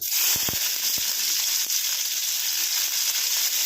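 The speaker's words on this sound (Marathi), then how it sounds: "मिरच्या तेलामध्ये चांगल्या भाजून घ्या" Green chillies frying in hot oil for poha give off a steady, close sizzle that runs the whole time, with a few soft clinks near the start.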